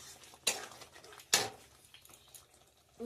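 A spoon scrapes and clanks twice against a pan while spinach paneer curry is stirred, sharp metallic hits standing out over a quiet background.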